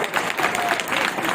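Vigorous clapping from an audience at a school annual function, a dense, continuous burst of many hands heard fairly close and steady throughout.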